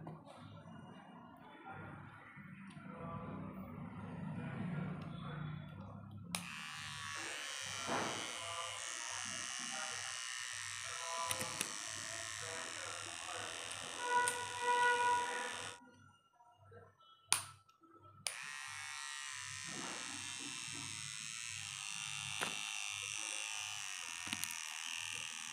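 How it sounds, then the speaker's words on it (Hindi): HTC men's battery-powered electric hair trimmer running with a steady close buzzing hum that stops briefly and restarts partway through, with speech heard faintly at the start. "मेंस हेयर ट्रिमर है।"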